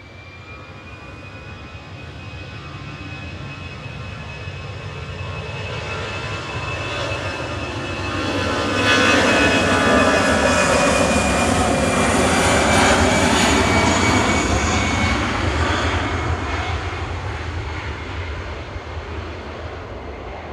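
Aircraft Kilo Oscar departs Manchester Airport, its jet engines building from a steady rumble to a loud roar with a high whine, then holding before slowly fading, with no voices.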